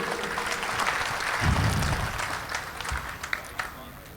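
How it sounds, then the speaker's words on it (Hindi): A mushaira audience claps for a poet, a continuous crowd applause under a low rumble, with a few distinct sharp claps near the end and voices mixed in. "उनके लिए तालियां बजा दें आप मुनव्वर भाई के लिए।"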